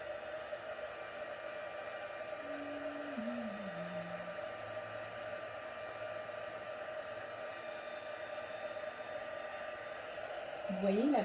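A heat gun blows steadily for about eleven seconds to melt embossing powder during card stamping, a constant close airy roar with a faint low tonal whine drifting underneath, slightly louder at the very end.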